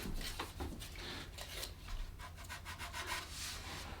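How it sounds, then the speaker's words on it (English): Steady rhythmic rasping of sandpaper rubbed back and forth by hand over a wooden guitar template, quiet and close, with no voices. "the only way to get rid of it is by sanding it by hand"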